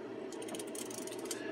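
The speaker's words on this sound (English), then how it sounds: "I had to roll this into position, as you hear it click there." Film advance on a Wirgen Exida 35mm camera wound by hand into position, giving a quick run of close, faint ratcheting clicks without any talk.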